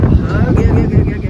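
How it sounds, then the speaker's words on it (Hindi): Heavy, steady wind buffeting the microphone, a continuous low roar with gusty swells throughout. "बहुत तेज हवा चल रही है"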